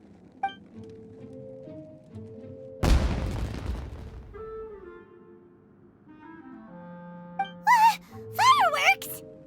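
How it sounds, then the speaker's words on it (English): Fireworks burst once in the Genshin Impact video game, a sharp loud bang followed by a crackling decay. Game music and character voices run around it, with chirpy voices near the end. "It sounded like fireworks"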